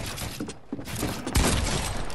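Shotgun reload in Fortnite: a string of short mechanical clicks and clacks, shells being loaded, ending in a louder solid chunk near the end, close and fairly crisp.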